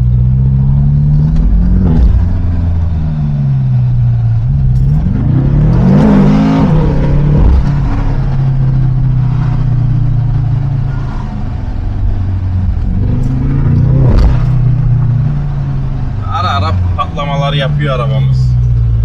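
A BMW M5 Competition engine revs loudly and close, its drone rising and falling through several surges over a steady road rumble, with people talking throughout.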